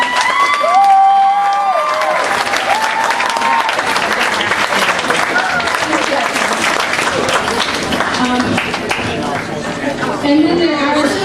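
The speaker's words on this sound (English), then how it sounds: "Round of applause for all these people." Loud, sustained applause and cheering from the crowd at a football and cheerleading awards banquet, many hands clapping continuously with scattered shouts and voices chattering beneath, lasting over ten seconds.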